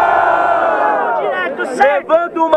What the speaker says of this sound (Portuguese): Barulhos pra quem gostou das rimas do Cairóis